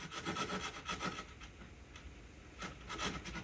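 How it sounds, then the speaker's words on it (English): Hand saw cutting a wooden joint, giving off a quick rasping back-and-forth scrape in a steady rhythm of strokes, up close and fairly quiet. "Saw down to that level."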